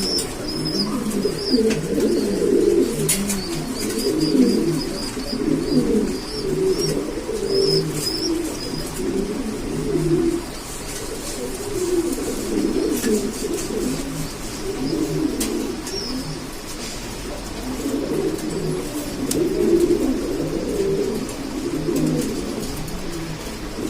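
Pigeons, including blue and black Lahori breeds, coo continuously in a loft, a rolling, throaty burble repeating in overlapping waves with occasional faint chirps, close and steady with no voices.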